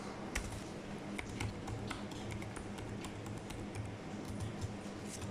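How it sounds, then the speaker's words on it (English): Password keys tapped out on a computer keyboard in a steady run of light, close clicks, with a low room hum underneath. "I'm going to type something here."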